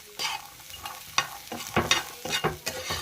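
Kodanchikayi roasts in a pan with quiet, close scraping and stirring strokes that come in uneven bursts, and a soft sizzle sits under the scrapes.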